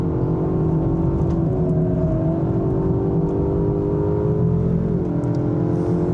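A city crossover with a 2-litre engine drives on a Formula 1 circuit. Its steady, loud engine drone and tire roar fill the cabin, the pitch holding high before a brief drop near the end, with no talking.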